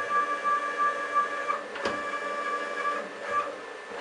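A CNC machine's Y-axis leadscrew and stepper motor jog back and forth at about 40 inches a minute, making a steady whining tone with faint mechanical clicks and one sharp knock partway through.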